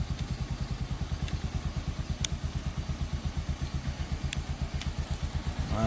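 A motorcycle ridden by a father who is learning to ride, its engine chugging close by in a steady, rapid low putter with occasional light clicks over it.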